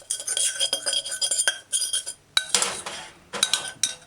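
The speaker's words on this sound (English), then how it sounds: "I use the fork and then stick it in the garlic and then use the garlic to kind of rub the pot's bottom" A fork holding garlic rubbed against the bottom of a pot while making goat curry stew, heard as close, bright metallic scrapes and clinks in short uneven bursts with brief pauses between them.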